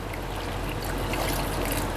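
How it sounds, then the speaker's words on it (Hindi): A cup of water pours into mutton curry with spices in a pressure cooker, a short close sloshing trickle over a low steady background hum, without talk. "और इसमें 1 कप डाल दूँगी पानी।"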